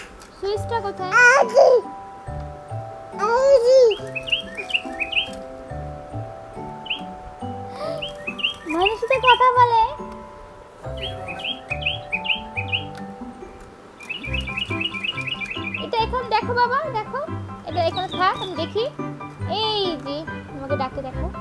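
A battery toy bird chirps in bursts of bright, warbling tweets after being switched on, close by, with an adult and someone talking and babbling over it throughout.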